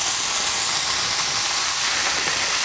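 A dish simmers in a pan, giving a continuous, fairly loud bubbling hiss that stays even from start to finish with no voices.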